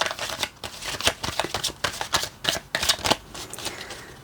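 Tarot cards being shuffled and drawn in a series of quick, crisp riffling and flicking bursts, close and fairly loud, with no talking.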